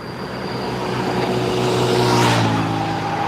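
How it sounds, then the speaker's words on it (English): A truck passes close on a street in Chiang Rai, its engine noise swelling to a loud peak near the middle and then easing away. "And there's a truck."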